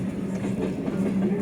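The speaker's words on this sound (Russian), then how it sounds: "Этот поезд, он мешает." A Russian Railways passenger train rolls past at a station in a steady, dense rumble with faint rhythmic clatter of wheels on rail joints, heard from aboard another train travelling from Novosibirsk to Crimea.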